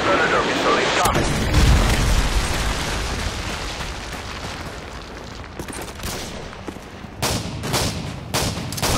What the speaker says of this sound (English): Friendly Predator missile is coming.